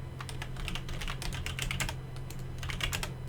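Commands are typed on a computer keyboard at an Ubuntu terminal while setting up a MySQL cluster, producing a quick, uneven run of light key clicks over a low steady hum.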